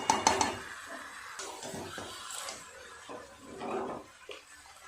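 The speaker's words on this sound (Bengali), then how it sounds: "এই রকম রান্নার সময় কিন্তু একটু গরম জল ব্যবহার করলে খুব ভালো হয়" Hot water poured into a pot of cooking country chicken, a short clatter of metal pot and utensils followed by faint splashing and pouring, close and fairly quiet, with no talk over it.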